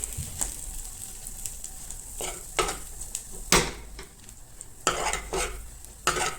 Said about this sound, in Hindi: और मसालों को भी थोड़ा अच्छा फ्राई होने देंगे ऑयल में